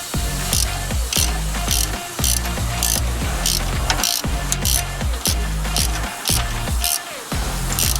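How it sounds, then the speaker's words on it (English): A ratchet wrench tightens the axle nut on a Nissan Rogue during a CV axle replacement, giving a loud, close series of rapid clicking bursts with brief pauses between strokes and no talk. "So you're tightening it both from the top."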